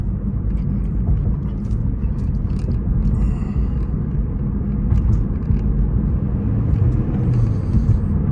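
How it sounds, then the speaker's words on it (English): From inside a 2015 Lexus CT200H F-Sport hybrid accelerating on bumpy Charleston roads, a steady low road rumble carries scattered faint rattles and clicks. "listen and see how the car accelerates and all that. And again, these are bumpier roads."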